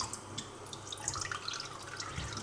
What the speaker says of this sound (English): Squash out some water.